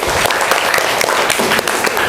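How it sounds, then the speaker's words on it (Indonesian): A classroom of students clapping for a classmate, a close, lively burst of overlapping hand claps with individual sharp claps standing out, no speech. "Beri tepuk tangan untuk Fakih"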